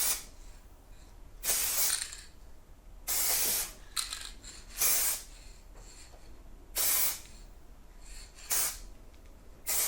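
Repeated short bursts of hissing spray onto an epoxy countertop, about six sprays spaced a second or so apart, close and fairly soft, with quiet pauses between.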